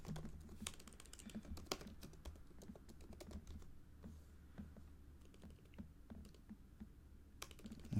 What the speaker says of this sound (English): So you can type in dental economics.